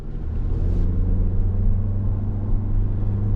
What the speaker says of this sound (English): we are out on the road in this 2024 Grand Highlander. Platinum 4x4